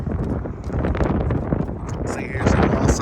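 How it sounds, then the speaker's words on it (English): Steady wind buffeting a microphone aboard a 2023 Bennington 25QXSBA pontoon boat, a continuous loud rushing roar that swells toward the end. "Sorry for the wind, it's a little windy today."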